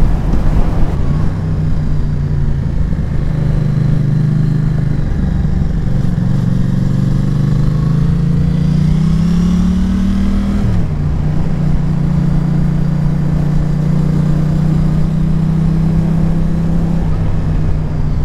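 A Yamaha Tracer 7 motorcycle fitted with an Akrapovic exhaust accelerates, its steady engine drone rising in pitch, dropping back, then holding at a constant note, heard close and loud with no talking.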